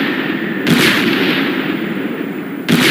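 Two deep gunpowder blasts, one early and one near the end, boom over a steady rumbling roar of continuous fire, loud and close with no voices.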